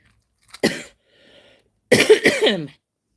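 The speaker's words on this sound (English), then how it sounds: "I have a bit of a cough today." A person with an allergy cough coughs a few times, a short cough followed after a pause by a louder burst of harsh coughs, close by in a quiet room.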